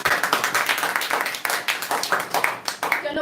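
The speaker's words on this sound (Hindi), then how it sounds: "तो तालियां हो जाए एक बार।" An audience breaks into applause at a talk, a fast crowd of claps rising and falling in waves, loud and close, with a voice speaking over it.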